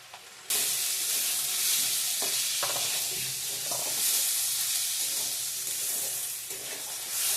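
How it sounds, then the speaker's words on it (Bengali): Spices with turmeric and salt frying in a pan, starting as a sudden loud sizzle that continues steadily, with a few faint clinks from stirring, no voices. "ভালো করে ভেজে নিব"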